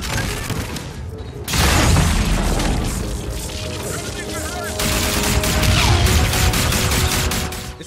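Dense automatic gunfire from a Call of Duty: Infinite Warfare campaign firefight, loud and continuous with heavy booming blasts, a brief lull near the start, then sustained rapid bursts.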